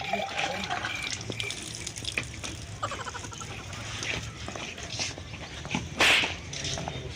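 Water from a tap pours into a lota in a home, a steady splashing rush under low room noise, with a brief louder gush near the end.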